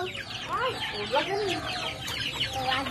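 Chickens cluck and chatter close by in a yard, rising and falling calls overlapping continuously, with a faint rooster-like call mixed in and low background noise.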